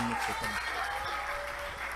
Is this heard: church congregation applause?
yes